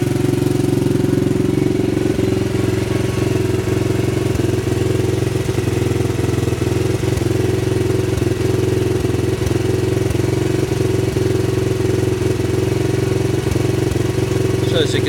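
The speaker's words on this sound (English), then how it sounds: "Bike's running. We've had the idle turned up a little bit" A Crossfire CF125 125cc motorcycle idles with a baffle fitted in its exhaust and the idle raised a little. The engine makes a steady, close, constant drone with a low rumble for the whole stretch.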